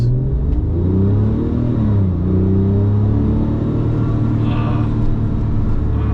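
A 997-generation Porsche 911 Turbo engine rumbles loudly from inside the cabin on twisty mountain roads, its pitch dipping and rising as it downshifts, steady and droning throughout.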